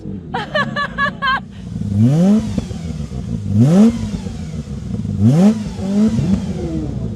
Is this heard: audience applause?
no